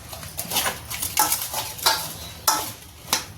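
Spinach pakora batter being mixed in a bowl, a close rhythmic series of wet scraping stirs, about six or seven strokes, with no one speaking.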